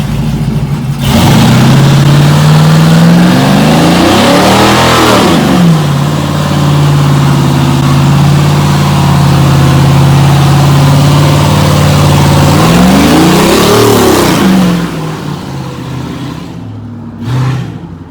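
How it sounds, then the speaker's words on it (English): A 1970 Chevrolet Nova with an LS engine swap revs hard during a burnout, loud and close, its pitch sweeping up twice in long sustained pulls before it settles back toward idle at the end. "and then we're gonna hopefully do a burnout later on."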